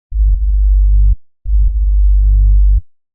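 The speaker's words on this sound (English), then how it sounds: "We have the new note and some reverb from the previous note" Two sustained, layered sub-bass synth notes, each carrying reverb that blurs into a deep rumbling low end. The second note follows after a short gap and fades out smoothly, with no voices.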